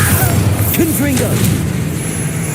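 In Hogwarts Legacy, a Confringo spell bursts with a muffled boom under a continuous low rumble of combat, while a voice calls out over it.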